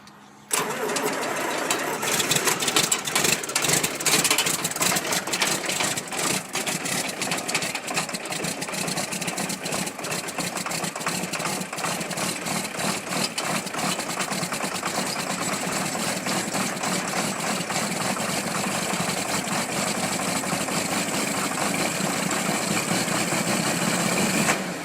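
John Deere 4430 tractor engine cold-starting, cranking briefly then catching into a loud, steady diesel idle with a continuous rattling chug that runs close and unbroken throughout.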